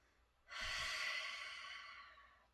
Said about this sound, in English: use our breath, our inhale through the nose, our exhale through the mouth